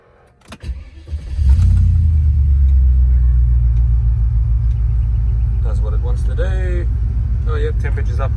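A Range Rover P38 engine cranks briefly, catches with a loud bark, then settles into a steady, heavy idle rumble close by, with a voice speaking briefly over it.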